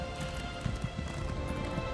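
Horse galloping in the video game Elder Scrolls Online, a steady stream of quick hoof clip-clops running continuously under layered game music and ambience, moderately loud throughout.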